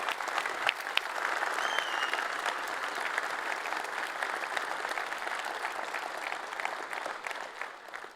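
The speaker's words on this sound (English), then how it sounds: "great applause." Sustained audience applause fills the hall at the EVE Fanfest 2023 closing ceremony for EVE Online, a dense, steady wash of many hands clapping at even loudness with no voice over it.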